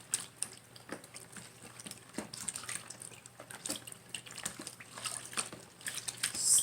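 Homemade disinfectant wipe solution stirred in a container makes a faint, continuous watery swishing with light drips and occasional small knocks, with no voices.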